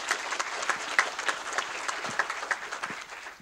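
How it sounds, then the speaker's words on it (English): Audience applause at an event on mortgage bailout fraud with a district attorney, a steady wash of many hands clapping with a few sharper claps standing out, continuous through the whole stretch with no voices. "So I think we should all give a round of applause to Prudential Rand here tonight"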